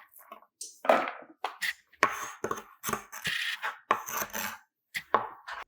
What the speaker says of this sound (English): we're going to go ahead and cut up 2 stalks of celery